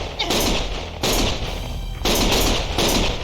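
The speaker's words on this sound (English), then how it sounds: "Stop shooting!" Loud bursts of gunfire from the video game Lost Judgment, three heavy volleys in quick succession, each sharp and dense, close and dominating with no talk over them.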